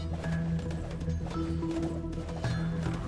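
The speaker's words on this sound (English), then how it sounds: "The horses are loose!" Horses running loose in Age of Empires II, with hoofbeats and occasional whinnies under a steady layer of game sound and music.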